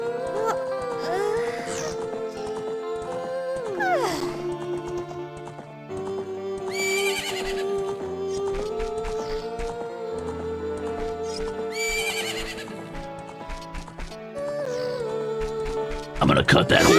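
Horse neighs and whinnies with clip-clopping hooves from The Legend of Zelda: Ocarina of Time, several bright neighs recurring over a steady musical bed, with a louder burst near the end.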